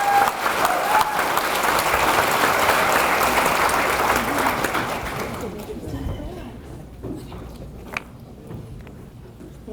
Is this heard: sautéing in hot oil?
no